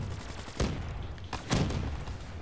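Two bursts of rapid video game gunfire from Black Ops 3 Zombies, each a short fusillade, roughly a second apart over a steady background of game ambience.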